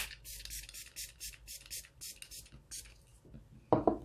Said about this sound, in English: This is the Milani Make It Last setting spray, and I'm just going to set my face with it.